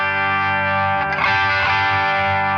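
An electric guitar played through a Rodenberg BL Deluxe British Legend amplifier pedal rings a sustained, driven chord with a thick overdriven amp tone, loud and close, with a brief strummed swell in the middle.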